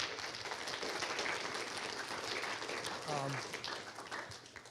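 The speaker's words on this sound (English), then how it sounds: "definitely want to give Faraha a round of applause" Round of applause from an audience at an evening community discussion event, a soft, distant wash of clapping under a voice speaking partway through.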